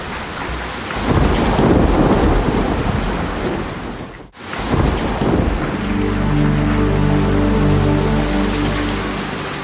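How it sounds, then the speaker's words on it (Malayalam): Heavy rain pours onto the Iruvazhinji river with rolling thunder, a loud continuous downpour broken by a brief cut, then resuming with a deep rumbling drone beneath it. "ഇരുവഴിഞ്ഞി പുഴയിൽ പെയ്തു വീഴുന്ന ഈ മഴ"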